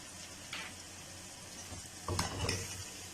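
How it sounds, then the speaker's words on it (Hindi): Cumin seeds, garlic and potatoes fry in a karahi, a faint, steady sizzle broken by a few soft scraping stirs near the end. "अच्छी तरह ज़ीरे और लहसुन के साथ जो है वो इनको भून लेंगे।"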